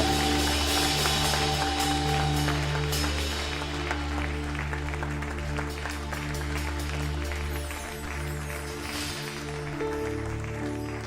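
A church congregation applauds during a prayer service, a steady dense wash of clapping with sustained music tones underneath, fairly loud and continuous throughout.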